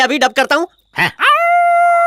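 Someone speaks briefly, then imitates a dog with his voice, producing one loud, sustained howl-like tone that holds steady to the end.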